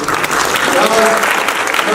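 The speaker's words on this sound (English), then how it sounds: "Melanie McLaughlin, a big round of applause" An audience at a cannabis conference and expo applauds steadily, a dense patter of clapping heard up close, with a voice talking over it.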